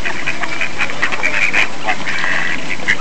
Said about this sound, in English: Now we get to get a bunch of ducks here, Ben